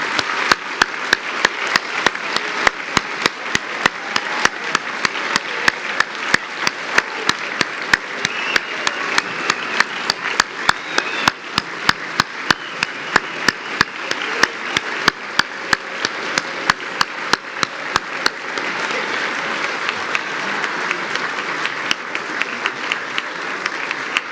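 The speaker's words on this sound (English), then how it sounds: "Let's give our students one final big round of applause" Sustained applause for students at a regional scholar awards ceremony fills a large hall, with steady dense clapping and some sharp, prominent claps standing out throughout.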